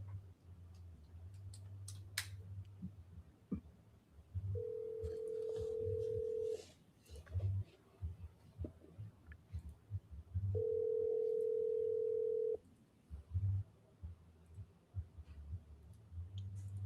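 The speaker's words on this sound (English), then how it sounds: "You go do the work, but I placed a phone call, Jerry." Telephone call being placed: quiet clicks and keypresses, then two long steady ringback tones separated by a pause, with faint background sounds between them.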